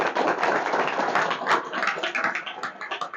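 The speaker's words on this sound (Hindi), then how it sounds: "वो जोरदार ताली बजाएंगे आप।" Congregation applauding loudly at a Hindi-language church service, a dense, steady wash of many hands clapping that carries on for a few seconds with no talking over it.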